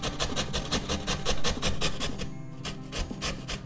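Peeled beetroot is rubbed hard against a grater in quick, even rasping strokes, a close rhythmic scraping that pauses briefly before it resumes.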